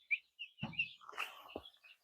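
Isa Brown chicks, their feathers beginning to turn brown during brooding, give several short, high chirps that come in scattered bursts with a few soft thumps of movement between them. They are fairly close and no one speaks.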